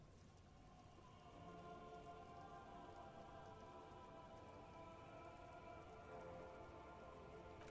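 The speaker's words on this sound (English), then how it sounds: "The droplets feel warm, like spring rain." Steady rain falls in the video game Disco Elysium, a dense, even patter of drops on surfaces that holds constant throughout, soft but continuous, with no voices.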